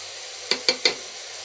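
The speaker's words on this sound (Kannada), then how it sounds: "ಇವಾಗ ಸ್ವಲ್ಪ ಖಾರದ ಪುಡಿ ಹಾಕ್ಕೋಬೇಕು ಒಗ್ಗರಣೆಗೆ." Chili powder goes into field bean lentils frying in hot oil for a tempering, marked by three quick, sharp scrapes or knocks of a spoon against the pan over a faint, low sizzle.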